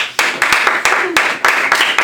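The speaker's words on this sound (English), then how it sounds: "Clap it up for that dude." A small lecture audience claps after a talk on Thomas Aquinas's Five Ways, with a few separate, uneven bursts of hand claps spread through two seconds, fairly close and loud.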